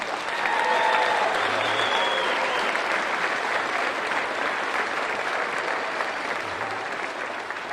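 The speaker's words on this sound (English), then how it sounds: "So let's give them a round of applause." A crowd at a spring Master of Arts commencement ceremony breaks into dense, sustained applause that fills the whole stretch at an even level, tapering only slightly toward the end.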